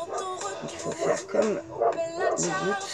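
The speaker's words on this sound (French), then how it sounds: "Ce que vous entendez, c'est ma chienne." A pet female dog whimpers and yips in short, repeated bursts close by, while someone talks in French over the cries.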